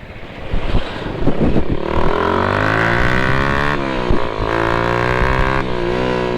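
Hi Speed Infinity 150 motorcycle ridden on the road, its engine droning steadily and rising in pitch as it accelerates, close to the microphone with wind rush throughout and no talking.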